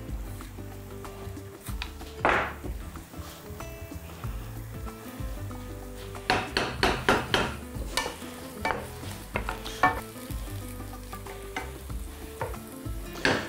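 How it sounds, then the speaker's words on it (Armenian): Eggplant fries in a pan, a steady low sizzle with bursts of stirring and scraping growing busier toward the middle, close and fairly quiet. "Մինչ սմբուկը տապակվում է,"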